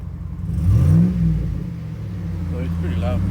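A truck engine with its muffler removed revs loudly through an open exhaust, rising in a single rev and then settling into a rough, throaty idle close by, with someone speaking briefly over it near the end.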